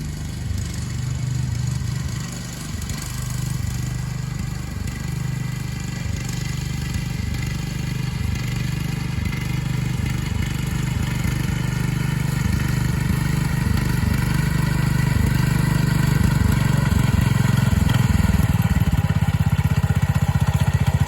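A small Cub Cadet 122 garden tractor engine runs continuously nearby, a loud, steady, rumbling idle that holds for the whole stretch with slight shifts in pitch.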